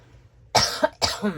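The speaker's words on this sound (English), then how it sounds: "despite the cough, that's just a tickle in my throat" Two sharp coughs close to the microphone, about half a second apart, each a short harsh burst; the second trails into a brief throaty rasp.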